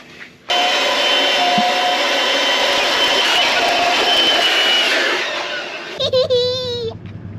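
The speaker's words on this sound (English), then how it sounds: "Our Makita blower vac. Good for fires, good for blowing off the outdoor area. Perfect for blowing up a tube." A Makita blower vac roars loudly and steadily while inflating a swimming tube at a camp, the broad whooshing airflow running for several seconds before cutting out, followed by a brief burst of voices.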